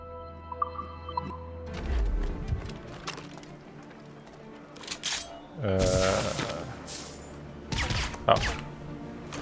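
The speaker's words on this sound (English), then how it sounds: "Firecracker." A firecracker goes off in Assassin's Creed Rogue, with a few sharp pops and crackling bursts scattered over a quiet game background, one loud burst standing out near the middle.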